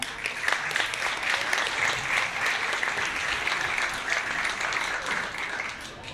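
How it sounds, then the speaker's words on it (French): Applause for a dance troupe at the Miss Villeneuve d'Ascq 2023 pageant in Villeneuve d'Ascq, a dense, sustained crowd clapping filling the hall at steady loudness for several seconds. "Donc on peut encore les applaudir bien fort"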